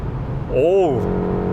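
A new BMW 520i's engine blips quickly, rising and falling in pitch on a paddle-shift downshift, a short rev under a background of road and cabin noise.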